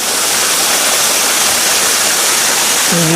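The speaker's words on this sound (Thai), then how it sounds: "อันนี้ก็จะเป็นน้ำตกนะครับ" Dense, steady rush of falling water from a nearby waterfall in a Thai temple garden, loud and unbroken, with a brief faint tone at the very end.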